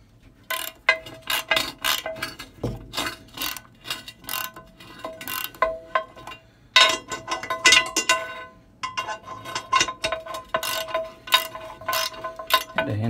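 Bolts are hand-tightened on a porcelain toilet in a DIY off-grid outhouse, giving close, rapid ratcheting clicks in repeated bursts with brief pauses between strokes.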